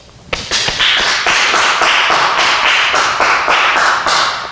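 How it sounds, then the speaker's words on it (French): Church congregation at a Mass claps together in a loud, rhythmic burst of applause that starts sharply and keeps a steady, emphatic beat throughout. "On vous applaudit."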